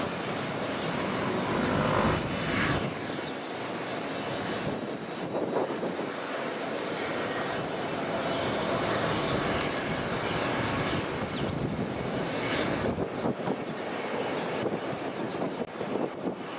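An airplane approaches for landing at Sint Maarten airport, a broad sustained roar mixed with heavy wind buffeting at a beach, steady and loud throughout.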